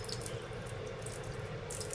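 Water sprays steadily from the outlet of a small 6V DC mini pump, a soft continuous hiss and splash like a running tap, heard close and alone.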